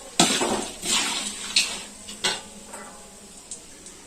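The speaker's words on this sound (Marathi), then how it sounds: "आणि सर्व मिक्स करूया असं" Mixing ground cumin and coriander powder into thin poha chivda in a metal pan, a series of sharp scraping clatters of a spoon against the pan at irregular intervals, close and fairly loud.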